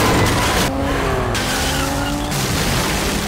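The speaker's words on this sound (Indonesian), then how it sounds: "Tiba-tiba sebuah mobil polisi masuk." A police car in a Korean drama scene skids in with loud screeching tires, a sustained squeal that bends in pitch over the engine roar, close and dominant throughout.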